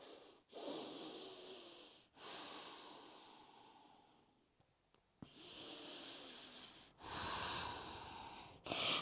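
Deep, audible breaths move in and out during a yoga flow, long airy inhales and exhales that sound close and steady, with brief quiet pauses between them and no talking.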